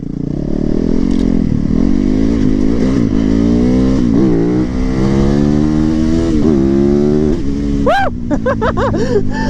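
A Supermoto motorcycle revs hard off-road, its engine rising and falling through repeated throttle blips, loud and close, ending in sharp quick revs; no talking over it.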